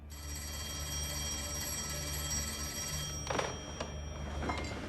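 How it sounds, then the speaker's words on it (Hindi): An old-style telephone bell rings in a quiet room, a few sharp jangling bursts near the end over a low steady hum. "आपको फोन उठा लेना चाहिए मिस्टर शेल्बी।"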